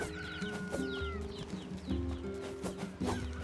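Several chickens in the video game NieR Replicant cluck and squawk in short irregular bursts, fairly close, with a faint background tone underneath and no talking.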